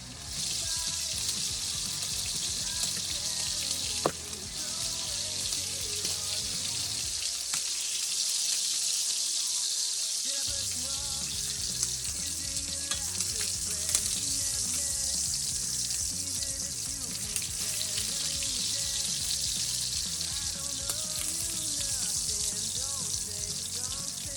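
A sous vide sirloin tip steak sears in a hot pan with a loud, continuous hiss and sizzle, pressed down as it cooks, the crackle briefly dipping partway through and carrying on unbroken, with no one talking.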